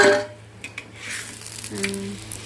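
Breakfast fries in oil in a pan, a soft sizzle broken by a few light scrapes and stirring clicks, close by and moderately loud with no talk.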